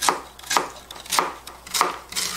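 Knife slicing peeled lotus root thinly on a cutting board: four or five crisp, evenly spaced chops, close and clear with no talk.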